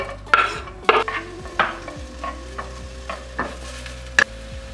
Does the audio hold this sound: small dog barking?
no